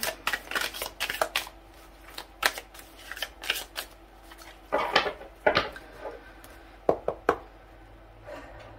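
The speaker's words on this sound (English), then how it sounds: "I'm just going to shuffle the cards real quick." Tarot cards being shuffled by hand in quick, close bursts of riffling and tapping, separated by short pauses, with no talk over them.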